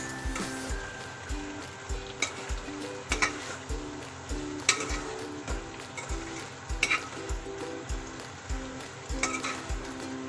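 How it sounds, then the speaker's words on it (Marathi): Peanut powder stirred into a drumstick curry in a pan, heard as steady rhythmic scraping and stirring strokes over a continuous sizzle, with light metallic clinks from the spoon. "आता आपण यामध्ये ॲड करूया शेंगदाण्याचं कूट. मिक्स."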